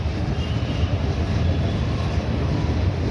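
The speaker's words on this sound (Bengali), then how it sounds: "এই মেট্রো চলে গেল।" A metro train pulling away from Garia station, a loud, dense low rumble that holds steady and close throughout with no voices.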